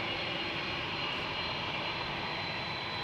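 A KLM Boeing 787-10 taking off at Amsterdam Schiphol, a steady broadband jet roar heard at moderate distance, constant and unbroken for three seconds with no voices.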